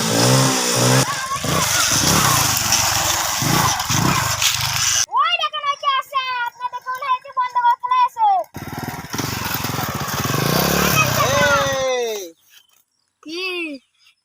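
A motorcycle ridden fast, its engine roaring and revving up and down with sharp rising and falling pitch, loud and close, with voices talking over it before it cuts off near the end.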